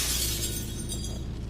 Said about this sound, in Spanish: Tomó varias y las fue arrojando al suelo, tiró todos los platos y todos los vasos de vidrio